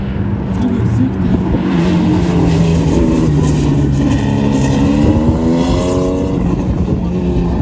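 A tiny car at an SCCA National Tour autocross event drives steadily through the course, its engine note rising and shifting over several seconds, fairly loud and continuous, with voices talking in the background.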